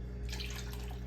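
Water pours steadily into a pot of macaroni soup, a continuous splashing rush with no talking, fairly quiet and close.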